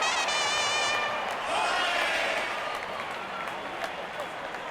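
A roaring stadium crowd cheers in a cricket video game after a big shot, a dense sustained wash of noise with whistles and shouts, loud and continuous, as a commentator's voice speaks over it.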